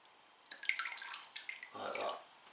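A potted orchid is pushed down into water to soak, giving bubbling, splashing and dripping water sounds in a few close bursts, then a fuller gurgle near the end.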